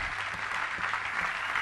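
Congregation in a church service breaking into steady applause and cheering, a dense continuous wash of clapping held at an even level throughout with no pauses.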